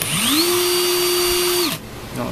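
A Milwaukee 2755 18V cordless impact wrench running free in its high-speed gear: a loud motor whine ramps up smoothly, holds a steady pitch for over a second, then winds down and stops.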